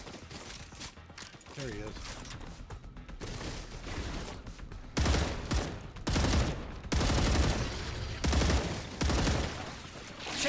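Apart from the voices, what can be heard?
gunfire in the video game StarRupture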